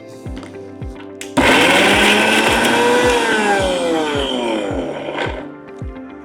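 A kitchen mixer grinder blending pieces of payar for an Onam upperi recipe, switched on in one sharp pulse that roars loudly for several seconds before cutting off, with faint ticking in the background.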